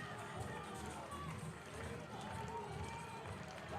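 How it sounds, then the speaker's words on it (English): A crowd roars through a women's 4x4 relay at a national track and field championship. The noise is steady and distant, and a commentator speaks over it. "The crowd is roaring."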